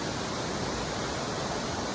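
A North Georgia waterfall gives a constant, even hiss of falling water, soft and unbroken with no other sounds.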